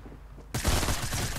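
Gunfire in the video game Fortnite erupts suddenly after a quiet moment, a dense loud burst of overlapping shots that carries on to the end.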